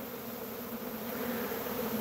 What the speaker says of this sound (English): just the sound of the beehive